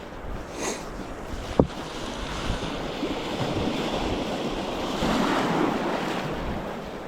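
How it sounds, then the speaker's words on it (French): Ocean waves wash onto a shore at dawn during fly fishing, a continuous rushing surf with wind noise and a single sharp knock partway through, no talking. "C'est de la bonne vague de bon matin, ça fait plaisir."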